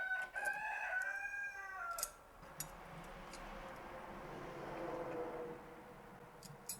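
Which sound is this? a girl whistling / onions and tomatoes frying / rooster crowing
rooster crowing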